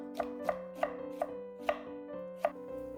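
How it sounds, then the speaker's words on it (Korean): A knife chops radish into thin julienne strips on a board, with about six crisp, evenly spaced strikes in close succession, loud and near, with no talking. "무 300g은 5, 6cm 길이의 채로 썰어둡니다."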